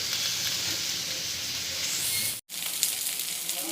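Ginger, soy sauce, cumin and green chili paste sizzle steadily in a hot pan, a continuous close frying hiss with a brief break partway through.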